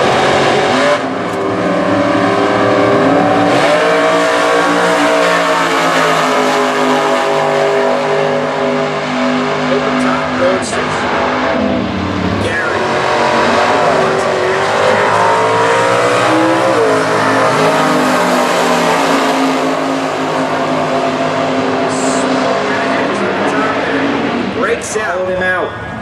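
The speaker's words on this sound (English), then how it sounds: "Phil with the 27 Ford, off and running in Super Gas." Super Gas drag racing car, a 1927 Ford, launching at an Indy drag strip: a roaring, revving engine pulls hard and loud for the whole stretch, with a track announcer talking over it.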